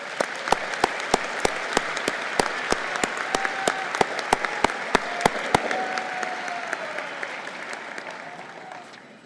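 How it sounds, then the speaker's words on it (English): An audience at a university commencement ceremony applauds steadily for several seconds, with a few sharp claps standing out near the front before the clapping gradually fades away. "Let's give all of these people a round of applause."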